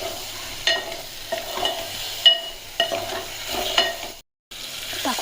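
A spoon scrapes and stirs a fish curry mixture with potato in a pan, several short clinking strokes in an uneven rhythm over a faint sizzle.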